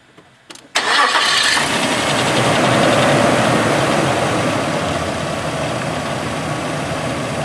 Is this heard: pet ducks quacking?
no